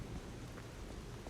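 Rain falls steadily in a video game, a faint, even wash of soft patter with no talking.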